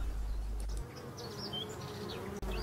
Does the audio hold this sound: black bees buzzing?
yes